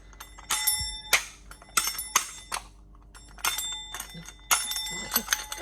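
A bicycle bell rings repeatedly in quick bright dings, several bursts with short pauses between them, close and clear over faint background noise and some speech.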